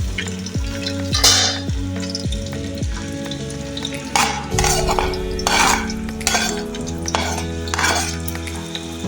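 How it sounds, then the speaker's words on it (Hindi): Three chopped onions fry in hot oil with whole spices in a pan, a steady close sizzle broken by a spoon stirring and clinking against the pot every second or so. "अब प्याज हमने अच्छी तरह से फ्राई करने हैं।"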